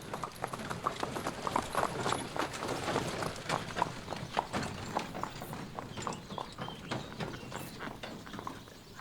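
Pony hooves clip-clop steadily at the Florianka stables in Poland, a dense rhythmic patter of many close, crisp hoofbeats over hard ground, continuous and unaccompanied by speech.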